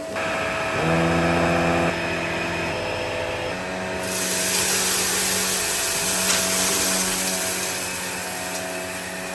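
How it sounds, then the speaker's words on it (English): A Vax LiftOut Reach Pet Design upright vacuum cleaner starts up close by and runs steadily with a loud motor whine, its tone shifting as the brush bar engages over carpet. "Switch it on right over here. And then you turn the brush bar on from this little blue button."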